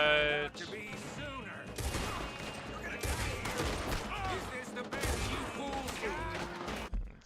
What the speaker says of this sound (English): There needs to be a separate sound effect for gunshot audio.